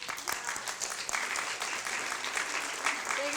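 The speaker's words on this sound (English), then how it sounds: "give her a big round of applause" A community meeting audience in Jupiter gives a round of applause, a moderately faint, continuous patter of many hands clapping with a few louder bursts.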